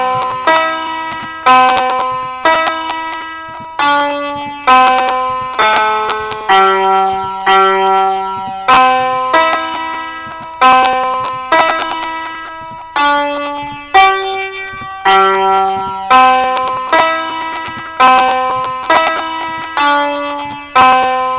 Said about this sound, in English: I'll just play you guys Amazing Grace,